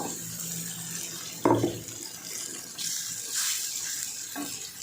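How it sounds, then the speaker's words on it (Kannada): Water poured into egg sambar masala in a pan, a steady trickling pour running for several seconds with a brief splashy burst partway through, close by and without talk. "ನೀರು ಹಾಕ್ತಾಯಿದ್ದೀನಿ. ಸಾರಿಗೆ ಎಷ್ಟು ಬೇಕೋ ಅಷ್ಟು ನೀರು."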